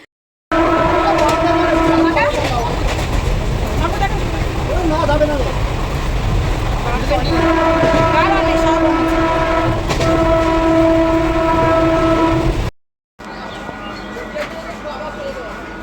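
A local train bound for Bangaon, boarded at Duttapukur, rumbles loudly and steadily while its horn sounds in long sustained blasts, then drops out briefly before carriage noise resumes.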